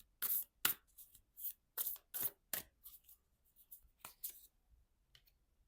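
Star seed oracle cards being shuffled by hand, a series of quick crisp riffling bursts with short pauses between them, close and clear with no talking.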